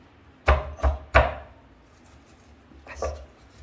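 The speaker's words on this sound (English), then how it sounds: "Take the pestle, mix it together well." A pestle pounds ingredients into a coarse paste in a mortar for paratha. Three sharp, close thuds come in quick succession, followed by a softer pair of knocks after a pause.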